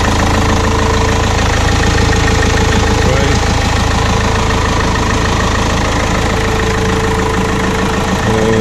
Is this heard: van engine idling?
yes